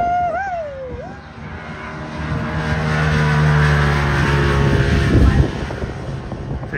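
4x4 vehicles at Loveday adventure park rev and slide, engines droning louder and rising then falling, with a burst of gritty scrabbling near the end. A person speaks briefly at the start.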